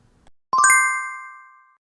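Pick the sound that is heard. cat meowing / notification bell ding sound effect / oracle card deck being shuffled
notification bell ding sound effect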